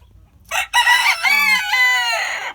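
Rooster crowing in a bachelor pen of roosters, one loud, close cock-a-doodle-doo call with a short opening note followed by a long drawn-out cry, heard alone against quiet surroundings.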